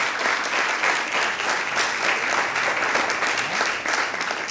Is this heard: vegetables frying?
no